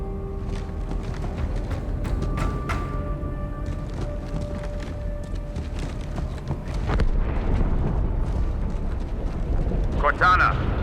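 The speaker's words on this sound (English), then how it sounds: "That explosion came from inside the Athens." Explosion in the Halo 2 Anniversary video game: a heavy rumbling boom that swells around the midpoint, set in dense battle noise with scattered sharp cracks and voices talking.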